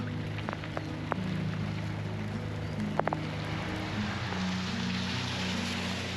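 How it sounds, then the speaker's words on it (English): Steady rain hisses in a constant wash on a parked camper van in England, with a low engine-like hum beneath and a few sharp drips or taps. "this is England, so the rain didn't clear up"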